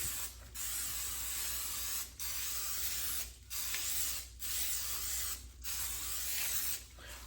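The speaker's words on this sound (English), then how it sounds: "we've gave our pan a nice coat of oil because once again, I don't want these to stick" Cooking oil sprayed onto a baking pan in short hissing bursts, about five or six close, quiet sprays separated by brief pauses.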